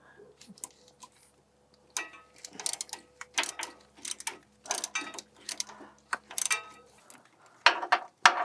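A ratchet on a swivel works a 10mm bolt on an F150 power steering line, giving bursts of rapid clicking in short strokes with pauses between, close and distinct.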